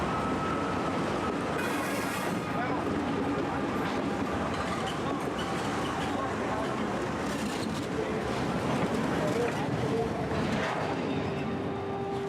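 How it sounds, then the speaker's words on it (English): A train rumbles past at night, a loud, steady roar of rolling wheels and rattling wagons with faint squeals, sustained throughout with no talk over it. "The train is soon going to accelerate."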